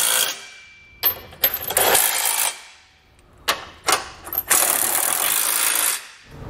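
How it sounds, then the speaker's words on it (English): A 22 millimeter socket ratcheting trailer hitch bolts tight while fitting a Curt receiver on a 2022 Honda Pilot, with two bursts of clicking and metallic ratchet strokes separated by brief pauses, close and fairly loud. "we can come back with a 22 millimeter socket and snug it all down"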